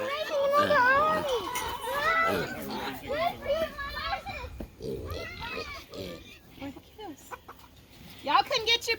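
Chickens clucking and squawking alongside Kunekune pig grunts on a farm, with people talking over the animal noises throughout.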